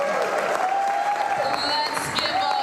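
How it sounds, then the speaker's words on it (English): Audience applause for a businesswoman at a public event, heard from a distance under a sustained tone and a few brief higher tones, with some isolated sharp claps. "Everybody give a big round of applause to Sheila Johnson."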